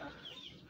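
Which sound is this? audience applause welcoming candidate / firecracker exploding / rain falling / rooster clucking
rooster clucking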